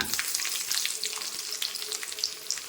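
Small onions fry in hot oil in a pan with mustard seeds, giving a steady close hiss and crackle with light popping throughout.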